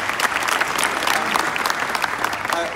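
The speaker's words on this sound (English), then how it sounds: "Ladies and gentlemen, give Casey a round of applause." An audience claps and cheers to welcome a guest at a live event in Poland, a dense, steady burst of applause close by that fills the whole moment.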